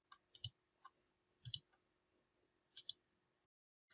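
Sharp mouse clicks while colouring squares in Illustrator for pixel art, heard as a handful of close, crisp clicks, some in quick pairs, spaced out over quiet with no talking.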